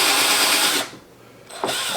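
A power drill bores through wood for a homemade bird feeder, with a scrap board underneath; a loud close whine that stops abruptly, pauses briefly, then starts again.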